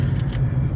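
A car idling with its air conditioning blowing, heard from inside the cabin as a low steady engine hum, with a couple of faint higher clicks over it and no talk.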